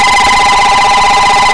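A loud, continuous electronic telephone ring in a workshop where a composite aircraft fuselage is being built, holding a steady tone with no pauses across the short stretch, no voices present.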